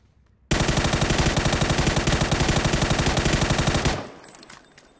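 Rapid automatic gunfire in PUBG aimed at a car, a loud, close burst of evenly spaced shots for about three and a half seconds that cuts off into a fading echo.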